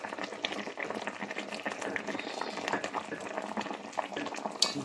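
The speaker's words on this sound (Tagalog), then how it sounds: "Pakukulin lang natin siya ng pagkukuluin. Hanggang sa maluto ang talong." Ginataang tilapia with eggplant simmering in a pot, a dense, continuous bubbling and crackling boil heard close up at steady volume for the whole stretch, with no talking over it.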